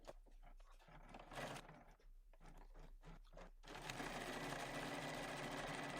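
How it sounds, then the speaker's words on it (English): A sewing machine stitches around the edge of a homemade fabric oven mitt. Sporadic handling bumps come first, then the machine runs in a steady, continuous whir that grows slightly louder. "let's get to sewing"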